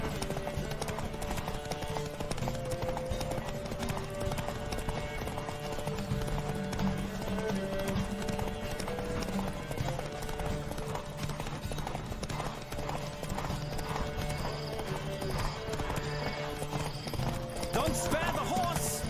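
Rapid, continuous hoofbeats of a horse galloping through a race in The Witcher 3: Wild Hunt, steady throughout at a moderate level, with brief game voices and ambient effects layered over the rhythmic clip-clop.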